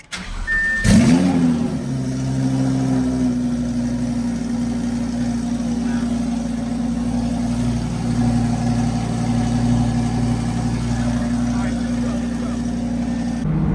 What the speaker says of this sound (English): Let's show you guys how freaking loud this car is.